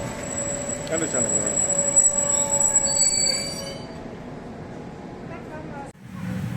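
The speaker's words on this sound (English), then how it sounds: "There is our train pulling into the platform now." A Bernina line train on the Swiss–Italian mountain railway near Tirano pulls into a platform, wheels squealing in loud sustained high whines over a rumbling rolling train, then fading as it slows to a stop.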